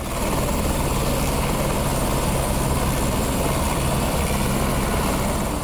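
An SDRF rescue helicopter working amid flood and landslide damage near Madmaheshwar in Uttarakhand gives a loud, steady rotor and engine roar that holds unbroken throughout, close by, with no voices.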